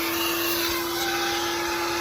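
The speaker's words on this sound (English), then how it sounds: "So let's go ahead and vacuum this, and then probably go ahead and reinstall our floor mats." A vacuum cleaner cleans the interior of a Nissan Titan pickup with a loud, steady, continuous drone and a fixed whine. It sounds close and runs unbroken from start to end, with no talk over it.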